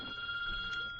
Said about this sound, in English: Is that... That's my phone.